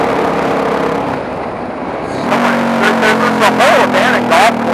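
Supermoto motorcycle ridden on a road toward an overgrown abandoned golf course, its engine droning steadily then rising with revving shifts, running loud and continuous while the rider talks over it.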